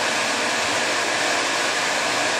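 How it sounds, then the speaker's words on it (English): A Tormach RapidTurn lathe spindle with a faulty Z feed, a steady, loud, close whirring hum that holds even throughout. "Spindle's running okay. It's just the feed is strange. So the Z feed is really strange."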